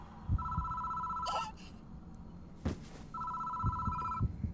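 Telephone bell ringing in the horror visual novel Spirit Hunter: Death Mark, two electronic ring bursts separated by a pause, with faint eerie background effects underneath.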